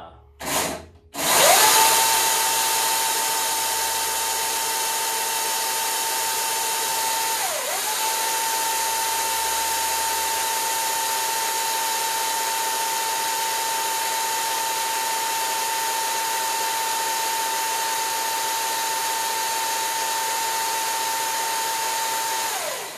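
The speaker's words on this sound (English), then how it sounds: "It holds fairly well, I think, for a you know, battery powered chainsaw." A Milwaukee M18 battery top-handle chainsaw whines at a steady high pitch for a long stretch after a couple of brief knocks, dipping once midway, loud and close.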